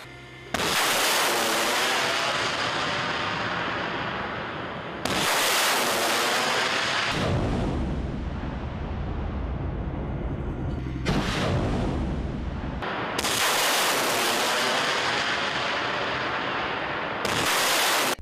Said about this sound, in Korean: 발사대 사격 임무 접수. 사격 준비.